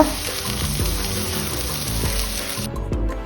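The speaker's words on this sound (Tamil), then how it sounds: "நல்லா சாட்டே பண்ணிவிட்டு" Onions, curry leaves and coriander sautéing in a pan for chicken chukka varuval make a constant close sizzle, with rhythmic stirring taps across a few seconds.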